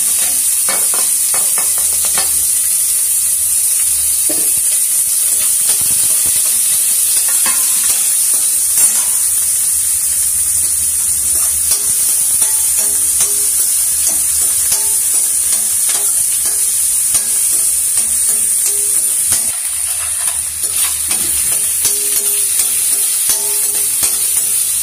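Chopped onions frying in a pan for mushroom masala gravy, a loud continuous hissing sizzle close up, with occasional stirring scrapes throughout.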